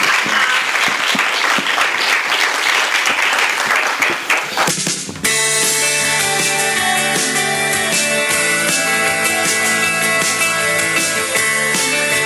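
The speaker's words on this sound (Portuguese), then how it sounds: "Aplausos ao Edu" Loud studio-audience applause for a contestant named Edu on a comedy talent show, rapid dense clapping for about five seconds that cuts off abruptly as music begins.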